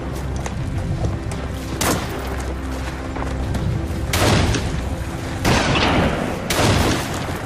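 Several loud gunshots crack out at irregular intervals over a constant noisy battlefield rumble, in a Gallipoli 1915 battle scene.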